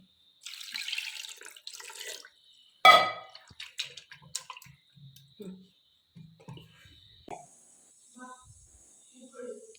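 Water is poured in short splashing bursts into a pot of jackfruit masala in a simple village kitchen. Scattered clinks and faint talk follow in the quiet room.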